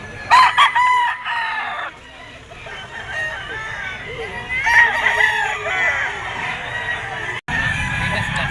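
Gamecock roosters at a pet market crow loudly, one close crow at the start and others further off, over clucking and a busy market murmur.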